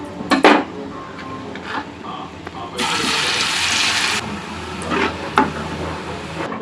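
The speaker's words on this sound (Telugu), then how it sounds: "బాగా డీప్ ఫ్రై అయిపోతున్నాయి." Sweet potato pieces deep fry in oil in a home kitchen, with a loud, steady burst of sizzling hiss in the middle, surrounded by clinking utensils and pan clatter nearby.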